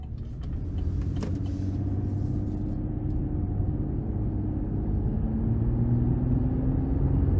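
A 2022 Chevrolet Colorado extended-cab WT pickup with a 3.6 V6 drives down the road, its steady engine drone and tire rumble building gradually from inside the cab, with no talking.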